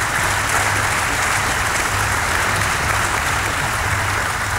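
A large audience claps steadily and loudly in a hall, a dense continuous wash of applause with no breaks, and no talk above it.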